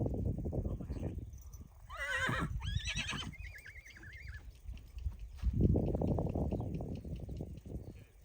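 Kazakh horses resist being caught while their foals are led away: two loud whinnies ring out mid-clip over the shuffle and thud of hooves on the ground nearby.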